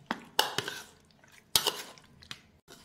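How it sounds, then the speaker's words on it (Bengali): Chicken pakora mixture is worked with salt in a bowl, giving a few sparse, close clinks and wet squelches separated by quiet gaps. "দিয়ে দেওয়ার পর এটাকে কিন্তু খুব ভালোভাবে মিক্স করতে হবে।"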